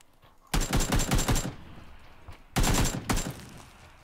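Two quick bursts of automatic gunfire from PUBG on PC, each a rapid string of sharp cracks, the second followed by a couple of extra shots, set against quiet background.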